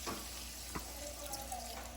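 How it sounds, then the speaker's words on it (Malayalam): A little water poured into a hot pan of egg roast masala with paprika, a quiet wet splash and hiss with a brief clatter, no talking. "ഞാൻ ഇച്ചിരി വെള്ളം ഒഴിച്ച് കൊടുക്കും."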